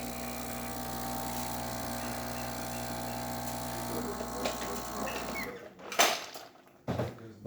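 Cuadra La Nuova Era lever espresso machine after a full tune-up pulling a test shot, a steady low pump hum and hiss that cuts off, followed by a few sharp clunks and bursts of hiss.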